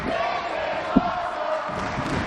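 Wrestling crowd at a pro wrestling show, a dense sustained roar of cheering and shouting from a packed house, with one sharp thud partway through.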